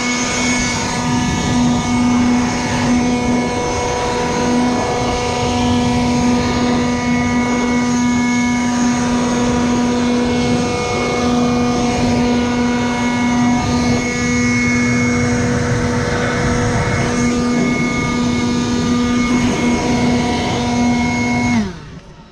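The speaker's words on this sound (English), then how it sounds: "I brought my little Ryobi dryer." A small Ryobi dryer blows water off ceramic-coated car wheels, a loud, steady high-pitched motor whine with a strong droning tone that runs without a break for about twenty seconds, then cuts off.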